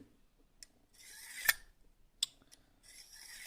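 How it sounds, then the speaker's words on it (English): A knife blade is drawn along Lansky Blademedic ceramic rods in a few short, quiet scraping strokes with small gaps between them, each stroke a thin rasp. "Now we're going to finish this off with the ceramic rods."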